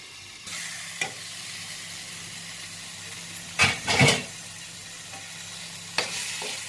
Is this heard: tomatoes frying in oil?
yes